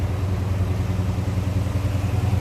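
A 1957 Chevrolet Bel Air two-door hardtop idles with a steady, low, throbbing engine rumble, close and continuous, with a slight mechanical clatter riding on top.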